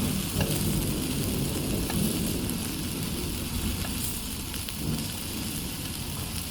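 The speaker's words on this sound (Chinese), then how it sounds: "香菇煎出水后，翻转煎另一面。" Soft, steady sizzling of shiitake mushrooms frying in a pan, with faint crackles and a few light scraping touches, no talking.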